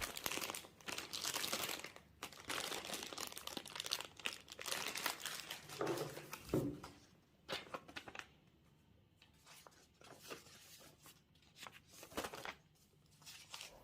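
Paper manuals, a process guide and warranty documents crinkle and rustle as they are lifted from a Dell Inspiron 15 laptop box, the close handling noise continuing in bursts with short pauses.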